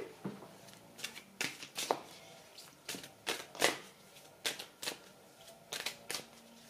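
Doreen Virtue oracle cards being shuffled for a reading, a run of close, crisp riffling bursts and soft slaps repeating irregularly across the stretch, with no talking.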